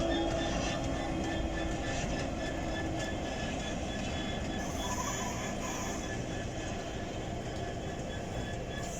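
Model railway locomotive 6604 running along the track of a model layout, a continuous steady rumble and rolling hum that stays close and even for the whole stretch, without speech.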